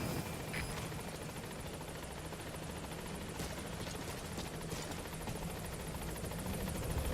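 A helicopter in Metal Gear Solid V: The Phantom Pain sets down at a landing zone, its rotor a steady, dense whir with a thudding blade chop that stays close and constant throughout.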